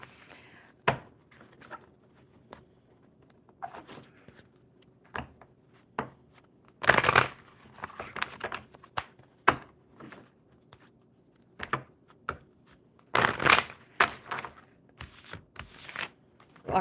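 Tarot cards being shuffled in repeated bursts of crisp riffling and flicking, close by, with quiet pauses between bursts.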